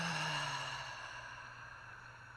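A deep, slow exhale during guided breathing, a soft, airy breath that gradually fades over about two seconds with faint background tone.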